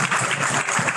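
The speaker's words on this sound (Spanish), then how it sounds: "Les pido un caluroso aplauso para los miembros panelistas." A short, dense burst of warm applause from a forum audience honours the panelists of an education session, loud and close with no voices over it.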